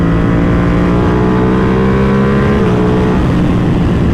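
A custom Ducati Panigale V2 motorcycle accelerating hard, heard up close as a loud, dense engine roar with rising pitch, heavily wind-buffeted and continuous.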